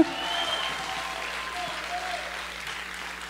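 A church congregation applauding during a French-language sermon, steady close clapping from a crowd that fades slightly toward the end, with a voice faintly present underneath.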